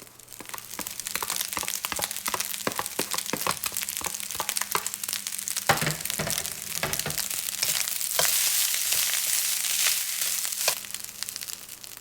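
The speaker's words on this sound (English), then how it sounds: "we're going to stir in the garlic" Garlic sizzles in hot oil as it is stirred into frying rice for Spam fried rice, a steady loud crackle broken by repeated scraping and clacking of the spatula on the pan.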